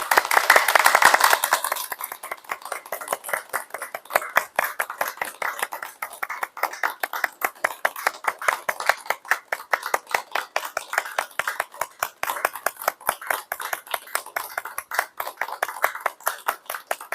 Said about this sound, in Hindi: ताली बजाओ थोड़ी देर।